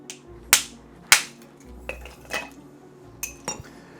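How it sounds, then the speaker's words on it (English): A large ice cube for a cocktail is struck and cracked: two sharp, loud hard knocks close together, then several lighter clinks and taps of ice settling, with quiet gaps between. "Got my big cube here. Give it a crack."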